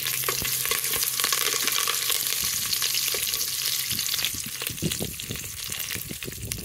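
Curry leaves dropped into hot oil for spiced bagara rice, a dense continuous crackle and hiss with quick sputtering pops close by, alone without voices.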